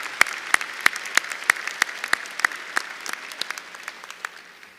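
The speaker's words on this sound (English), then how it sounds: "Let's give our faculty one more round of applause." Audience at an undergraduate commencement applauds the faculty, sparse clapping with distinct individual claps at first, then quieter and thinning out.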